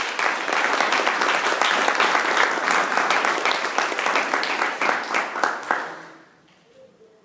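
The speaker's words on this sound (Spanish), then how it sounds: "¿Cuántos pueden dar un aplauso a la sangre de Cristo?" A church congregation applauds in a dense, sustained burst of clapping that fades out toward the end, leaving near quiet.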